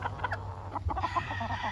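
A pure white Kelso gamefowl from a game farm clucks in a few short, moderately close notes over a steady low background hum.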